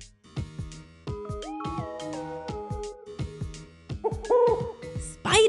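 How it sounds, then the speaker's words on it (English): An owl hoots in a children's animal stacking video game, cartoonish tonal calls repeating over a bouncy rhythmic music track with plucked beats, loud and close. "Owl."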